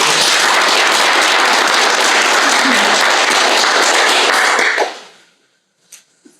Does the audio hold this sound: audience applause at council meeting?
yes